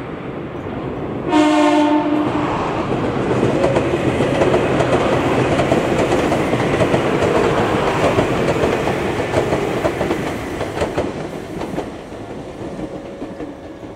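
A Meitetsu Panorama Super express train approaches from behind with a brief multi-tone horn blast, then passes close by with a loud, steady rumble and rhythmic clatter of wheels for several seconds, fading slightly at the end.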